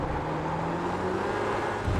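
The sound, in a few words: race car engine, short shifting on track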